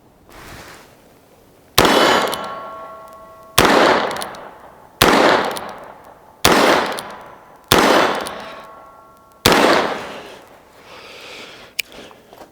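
Six loud, sharp shots ring out from a Heritage Arms Rough Rider rimfire revolver firing .22 Magnum rounds outdoors, spaced about a second and a half apart, each with a decaying ringing tail, with a faint click afterward.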